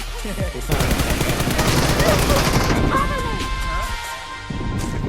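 Rapid bursts of gunfire rattle through a chaotic shooting video game match, loud and dense, with a voice talking over the shots.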